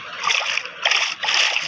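Cold water splashed onto a face during washing, heard as bursts of wet splashing in two main waves with a short pause between, close and fairly loud.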